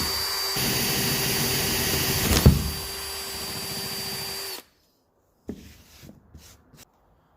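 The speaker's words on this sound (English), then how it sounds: "I'm going to drill the rest of those off camera" A power drill drilling holes whines steadily for several seconds, bogging briefly midway, then stops; a few short clicks and knocks follow in the quiet.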